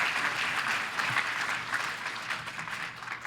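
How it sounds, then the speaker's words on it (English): Steady, dense applause from an audience at a public forum on a trash incinerator, a continuous wash of many hands clapping that holds for the full few seconds without pause. "How about another round of applause for Dr. Connett?"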